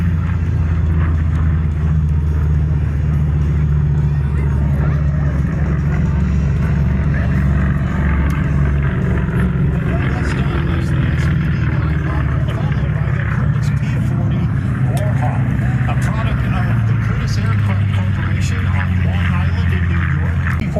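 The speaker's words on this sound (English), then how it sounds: "coming in the Grumman TBF Avenger with Matt Nightingale at the controls of that airplane" A Grumman TBF Avenger warplane flies in at the Apple Valley air show, its deep propeller engine droning loudly and continuously while an announcer talks over it.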